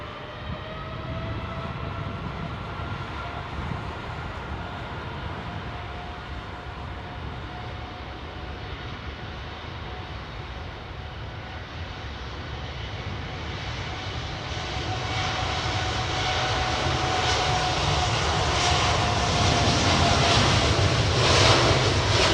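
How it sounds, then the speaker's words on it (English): Jet airliners departing London Heathrow Airport, a steady broad engine roar with a rising whine that swells louder toward the end as a plane passes close, no talking. "These aircraft going out"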